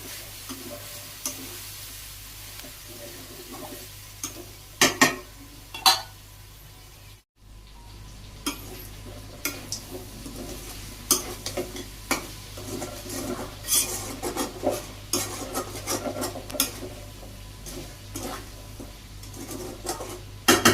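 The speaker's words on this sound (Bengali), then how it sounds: "দেখুন আমি ভালো করে আবার কষিয়ে নিই, মাত্র জল শুকাইল" Chicken curry being stir-fried in a pan until the water dries off, a continuous sizzle with frequent rasping scrapes and clanks of the spatula against the pan, close and fairly loud.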